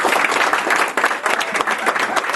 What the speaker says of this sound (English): If we can have a round of applause for her work as well.